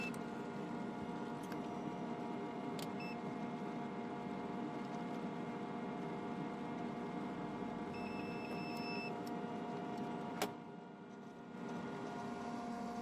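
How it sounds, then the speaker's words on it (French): Steady low hum of an Intex combined sand-filter pool pump running in filtration mode, a constant mechanical drone with a few faint beeps and a brief click near the end. "démarrer son groupe et se mettre uniquement en pompe de filtration"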